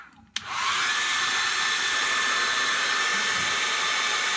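A hair dryer switches on with a click and then blows steadily and loudly, drying chalk paste on a board. The whine holds constant, with no one speaking.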